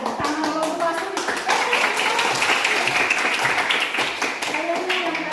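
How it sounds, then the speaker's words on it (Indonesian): Students in a classroom clap together, with voices and chatter at the start giving way to a sustained burst of scattered hand claps that carries on to the end. "Tepuk tangan lo semua"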